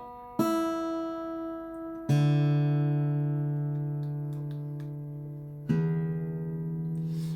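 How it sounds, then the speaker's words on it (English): Three plucked guitar notes ring out one after another, each sustaining and slowly fading, as strings are tuned in a quiet room. "how we tune guitars electronically"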